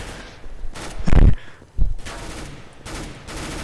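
Gunfire from the video game Counter-Strike: Global Offensive in an Arms Race match, with two heavy loud bursts and sustained rattling fire between them and after.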